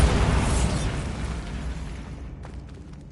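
The Bombarda blast spell goes off in Hogwarts Legacy as a loud, deep rumbling explosion that fades gradually over a few seconds, leaving faint crackling debris at the end.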